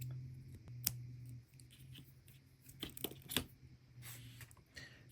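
Scissors snip a small yarn tail during a crochet project, giving a few quick, close, crisp cuts amid soft handling rustles and a low steady hum.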